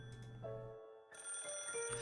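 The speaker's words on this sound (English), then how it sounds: "And the phone rang." A telephone rings in the Higurashi video game, a bright electronic ring in two bursts separated by a short pause, loud and clear with no voices.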